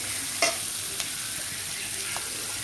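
Ingredients for mint chutney sautéing in a pan, a steady soft sizzle with occasional stirring clicks and scrapes, close and alone without talk.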